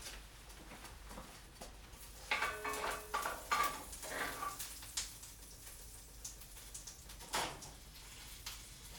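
Salmon fries in melted butter in a pan, giving a soft, quiet sizzle broken by scattered spatula scrapes and light clinks of utensils against the pan.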